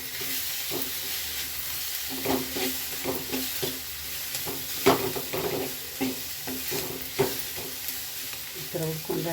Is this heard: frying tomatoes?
yes